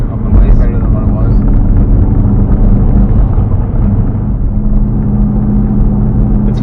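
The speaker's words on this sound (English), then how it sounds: "having the leak at the downpipe is kind of making me enjoy having a little bit of noise" A Subaru Legacy GT with an exhaust leak at the downpipe gives a steady, loud, low engine rumble. The drone runs unbroken throughout, with people talking over it.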